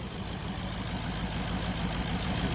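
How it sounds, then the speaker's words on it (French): A Maserati-built V8 from the Ferrari F430 idles steadily with an even, low mechanical hum and no changes in pitch, heard close but at modest volume with no one talking. "C'est le moteur de la F430 en fait du coup."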